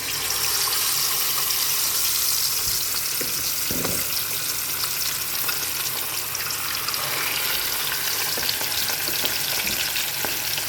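Fish coated in a spice mix fries in a pan, giving a loud, dense, unbroken crackling sizzle close up, with occasional utensil knocks and no talking.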